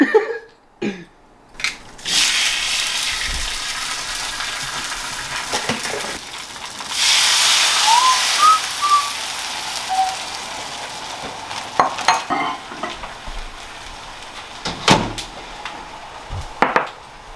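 Eggs and two slices of turkey bacon frying in a hot pan, a crackling sizzle that swells and fades with bursts of utensil scraping and clatter, close and fairly loud with no talk.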